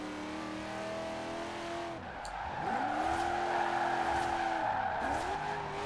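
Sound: V8 police car drifting in Forza Horizon 4 video game

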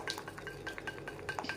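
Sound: stirring melted chocolate in a pan

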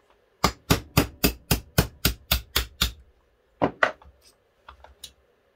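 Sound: hammer and punch driving out pin

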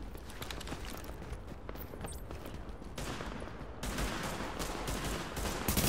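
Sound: gunfire at supplies in a video game

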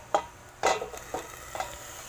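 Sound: stirring flat beans and ingredients in a pan

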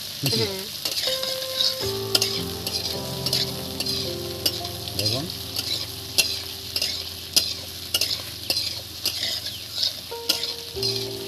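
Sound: stirring bitter gourd and potato frying in pan

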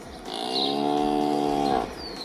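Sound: cow mooing indoors

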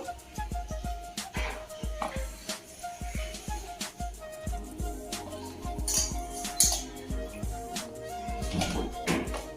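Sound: mixing Guntur mango pickle pieces

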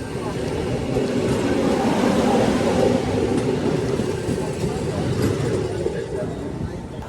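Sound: express train departing

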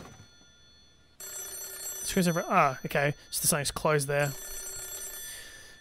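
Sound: telephone ringing in Japanese horror video game Hollow Cocoon

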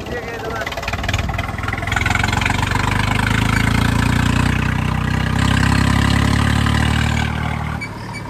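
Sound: Swaraj tractor engine idling

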